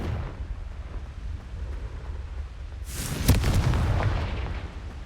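A Confringo fire-spell blast in Hogwarts Legacy bursts out partway through: a sudden loud crackling boom over low rumbling ambience, then a rolling, fading roar.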